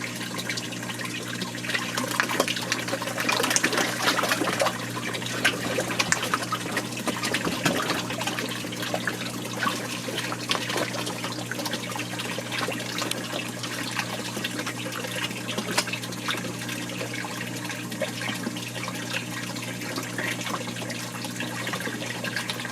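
Water trickling and splashing continuously into a fish pond inside a greenhouse, aerated by an air pump, a steady close babble with a fuller rush early on and no voices.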